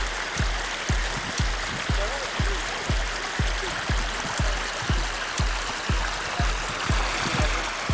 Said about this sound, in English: there's a phenomenal amount of meltwater that's coming off the Turner Glacier